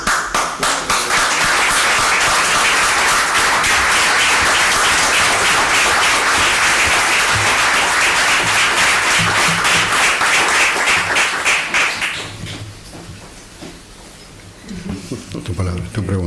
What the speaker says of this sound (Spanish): Desde ya pido un saludo y un aplauso.